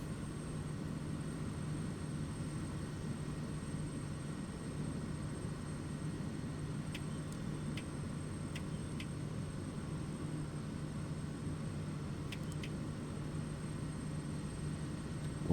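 A propeller aircraft engine in Microsoft Flight Simulator, throttled back on a flight over the Papua New Guinea highlands, gives a steady, low, even drone. A few faint clicks rise above it.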